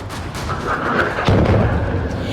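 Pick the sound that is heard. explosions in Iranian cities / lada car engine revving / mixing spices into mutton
explosions in Iranian cities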